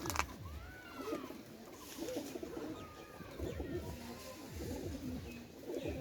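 Giribaz pigeons cooing in soft, repeated low bursts with a faint rustle of wings, close but quiet, with no talk.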